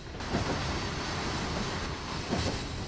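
A CSX freight train runs in the Trainz Railroad Simulator 2019 game, with a steady rumbling roll of wheels on track and faint rhythmic clicks, moderately loud and continuous.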